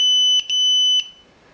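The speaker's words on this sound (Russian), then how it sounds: "Это пищало, наверное, что нету карты памяти." A small camera, switched on without a memory card, emits a loud, close, steady high-pitched electronic tone lasting about a second, briefly broken by a couple of quick clicks, then cutting off into near silence.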